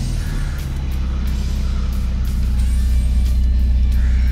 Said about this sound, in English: Let me turn on the car and show you how it works.